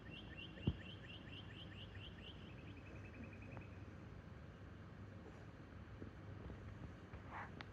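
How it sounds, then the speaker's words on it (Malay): Faint birds sing at dawn in Strasbourg, chirping repeatedly at a distance over steady low wind and background rumble, with a single brief thump early on. "bunyi burung."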